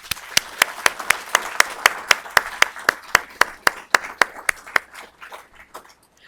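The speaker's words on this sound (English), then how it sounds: "So let's give them a round of applause." Audience applause for employee awardees at a July 2024 awards event, a run of sharp, evenly spaced claps that stay steady and fairly close before thinning out and fading near the end.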